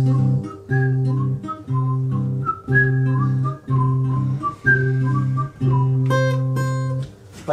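A person whistles a lilting melody in clear, phrase-by-phrase bursts with short pauses between them, close and prominent, during an intimate apartment concert in Belgorod.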